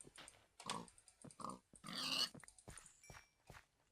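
Pig grunts and snorts in the Minecraft video game, several short bursts in an irregular rhythm, fairly close and moderately loud, mixed with quick tapping clicks, with no talking.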